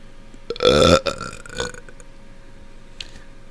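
A single deep, gurgling burp from a man lasts about half a second, loud and close, then trails into faint breathy noises in an otherwise quiet room.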